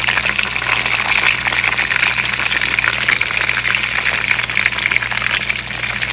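Tomatoes frying in a pan with chicken for chapli kebab, giving a loud continuous sizzle and hiss that holds steady throughout, close up with no speech.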